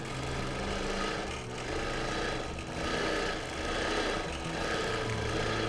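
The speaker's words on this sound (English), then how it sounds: "I'm stitching on my Bernina Q24" A Bernina Q24 longarm quilting machine stitches with polyester thread, a steady close mechanical hum and rapid needle chatter that swells slightly in waves without pause.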